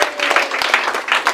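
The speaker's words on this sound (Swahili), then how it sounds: "Wapi makofi yake mzee jamani?" An audience at a Kenyan public gathering gives a short, dense burst of clapping for an elderly speaker, close and lively.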